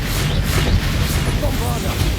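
The Confringo fire-blast spell in Hogwarts Legacy erupts as a dense, continuous roar of crackling blast noise with a heavy low rumble, steady and loud for the whole stretch.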